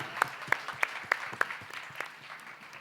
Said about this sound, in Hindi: जोरदार ताली हो जाए मैम के लिए